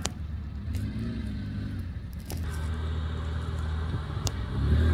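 Lada Niva off-road cars grinding through deep mud, engines rumbling steadily at close range with a surge of revving near the end; no talk.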